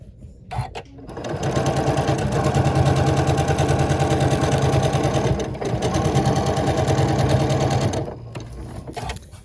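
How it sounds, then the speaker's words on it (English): Fabric is sewn onto a quilt block on a sewing machine, which whirs up and runs in a loud, steady stitching drone for several seconds, with a brief dip midway before stopping. "So let's sew this piece on and see what it looks like."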